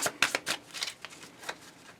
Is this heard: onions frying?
no